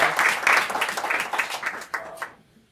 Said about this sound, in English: So let's give a hand applause